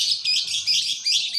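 A canary sings steadily and brightly in a high, continuous warbling stream, close and fairly loud, with faint low background murmur beneath it.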